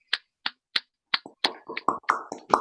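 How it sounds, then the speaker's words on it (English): Applause for children at an international night event in New Mexico: a few scattered, separate claps at first, then quickly thickening into fuller, overlapping clapping from a small audience. "another huge round of applause for all the children"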